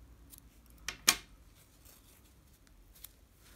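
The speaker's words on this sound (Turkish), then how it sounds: "Bir zincir çekip ipi burada kesiyorum." A single close, crisp snip of scissors cutting crochet yarn, preceded by a faint rustle, in a quiet room with no talking.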